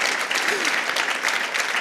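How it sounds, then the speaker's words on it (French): Applause from the audience at an environmental awards ceremony, a steady dense wash of clapping held at one level for under two seconds with no pause. "Vous pouvez applaudir, bien sûr, je vous en prie."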